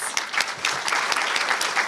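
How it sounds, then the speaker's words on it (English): An audience at a community iftar dinner gives a short burst of clapping, a crisp crowd applause that swells and holds through the moment, with a faint voice in the background. "See, I even had in there applause because I knew that you would get applause"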